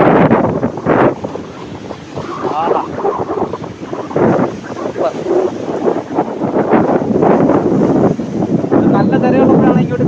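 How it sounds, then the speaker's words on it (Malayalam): Sea surf rolling in toward Chemmbarikka beach in Kasaragod, where rocks line the shore, a steady broadband wash with gusty wind buffeting the microphone throughout, while a voice briefly exclaims over it. "അങ്ങ് അകലെ കടൽ, ഈ കടൽ ഇങ്ങോട്ട് കയറുകയാണ്"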